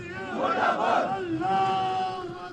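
Protesters chant slogans against Pakistan at a rally in Indian-administered Kashmir condemning a suicide attack in Islamabad: a loud, close group of voices shouting in unison, rising and falling in sustained rhythmic waves.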